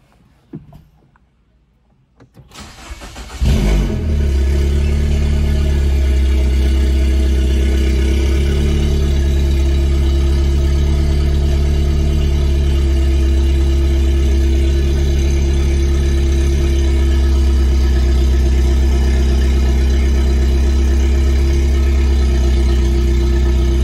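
A Mini Cooper engine cranks and fires after a short quiet moment, then settles into a loud, steady idle with a low even rumble that continues without talk.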